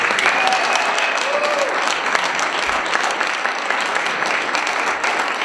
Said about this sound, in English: Applause for Greater York Dance.